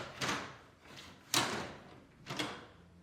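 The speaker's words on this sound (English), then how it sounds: "Start off by removing the top cutlery drawer," Top cutlery drawer of a Bosch dishwasher sliding along its rails as it is pulled out, with three or four scraping, rattling strokes close by.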